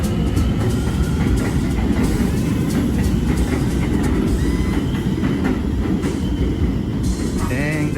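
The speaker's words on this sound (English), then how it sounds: "There we go, aforementioned train that we just saw." A Manhattan subway train on the G line rumbles past close by, a loud, steady roar with rattling clatter and occasional high squeals, filling the whole stretch without any talk.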